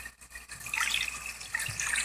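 Water sloshes and swishes around in a pot in the Toca Kitchen game, a soft liquid sound that rises after a quiet moment and carries on to the end.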